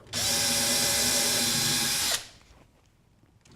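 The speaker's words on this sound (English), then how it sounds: "So I'm just going to line it up with that dot and drill." A power drill whirs steadily and loudly for about two seconds as it bores into wood, then stops abruptly, leaving a quiet room.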